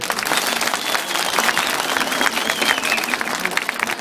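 Applause from a crowd gathered outside a CHP election office in Akkuş, broad clapping held at a constant level with faint voices mixed in.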